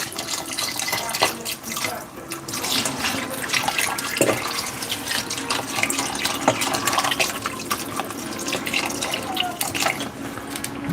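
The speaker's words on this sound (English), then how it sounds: "gonna add in our broth, and we just want it to come just above the rice" Broth is poured into rice in a cooking pot, a continuous close splashing and trickling of liquid that runs steadily for several seconds with faint background noise.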